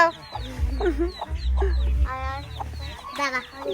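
Chickens, a hen with her chicks, cluck in short, scattered bursts close by in a village, with a heavy low rumble and brief squawks mixed in.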